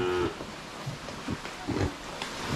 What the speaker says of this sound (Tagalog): Yan po ang ating mga baboy.